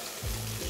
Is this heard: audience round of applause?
no